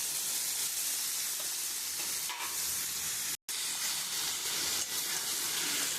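Spice masala fries in a pan as boiled green jackfruit goes in, giving a steady, hissing sizzle that fills the whole stretch at low volume, with a momentary cut partway and a couple of faint stirring scrapes.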